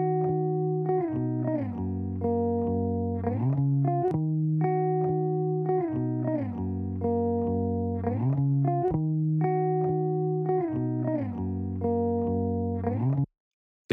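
Main melodic loop for a beat challenge, a bright repeating synth-like pattern cycling roughly every two seconds at steady volume until it cuts off abruptly near the end.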